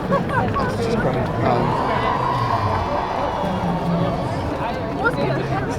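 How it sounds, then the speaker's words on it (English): A dense crowd leaving The Mall after the Coronation walks and chatters toward the exits, a continuous hubbub of many overlapping voices and footsteps close around, without one voice standing out. "trying to walk through a crowd while recording"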